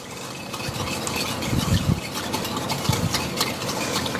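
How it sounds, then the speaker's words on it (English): A whisk beats a mint ice cream base of milk and sugar in a bowl, a continuous close scraping and swishing with a few louder clinks against the bowl, alone without speech. "And we're going to whisk that all together."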